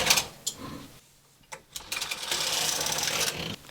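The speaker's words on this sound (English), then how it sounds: "Hang it on the left needle and then just knit across." A knitting machine carriage slides across a row of needles, giving a sustained mechanical whirring clatter near the end after a few scattered clicks and handling knocks, close and moderately loud.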